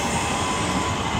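A Class 323 electric train at Aston station rolls past with continuous loud wheel and rail noise, a steady rushing clatter filling the whole moment.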